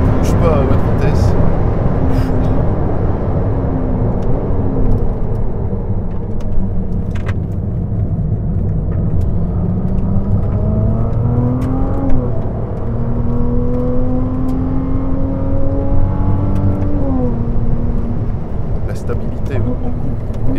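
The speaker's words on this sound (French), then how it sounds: "la réaccélération ici en ligne droite. Ça pousse à mort." A Ferrari 296 GTB plug-in hybrid accelerating hard along a straight on a circuit, its engine note climbing in loud, sustained pulls with gear shifts, while someone talks over the roar.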